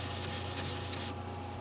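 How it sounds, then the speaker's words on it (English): Steady close scratchy rubbing of fine-grit wet sanding on lacquer over a crack in a 1966 Gibson LG-1 guitar, a few quick strokes back and forth, then it stops, leaving a low steady hum underneath. "I'm gonna wet sand that crack."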